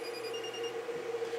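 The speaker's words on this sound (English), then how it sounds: "you do that, you hear a beep from the charger," An electronic beep sounds from a battery charger as data is written to its EEPROM: a steady, sustained tone lasting the whole moment, with no talk over it.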